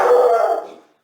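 A dog lets out a single loud, drawn-out howl that rises quickly and then fades away over about a second, heard close with no talking.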